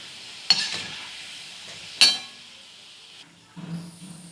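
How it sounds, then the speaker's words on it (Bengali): Palm-fruit rasbora dumplings fry in oil over a medium gas flame, giving a steady sizzling hiss broken by two sharp splattering bursts, with soft utensil clatter near the end. "এবার বাকিগুলো ভেজে নেব"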